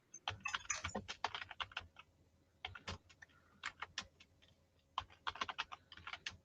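Fingers type quickly on a computer keyboard in close, clicky bursts, with brief pauses between runs of keystrokes and no voices.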